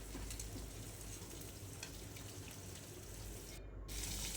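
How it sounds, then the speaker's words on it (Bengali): Rohu fish frying in a pan, a steady faint sizzle and crackle of hot oil continuing throughout with no talking. "মাছের ঝাল নামিয়ে আবার মাছ ভাজতে বসেছি। এটা রুই মাছ ভাজছি"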